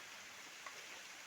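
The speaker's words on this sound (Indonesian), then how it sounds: "masih turun hujan" Steady rain falls through a cool, humid forest of ferns and wild pandanus, a soft continuous hiss with one faint drip standing out, heard alone.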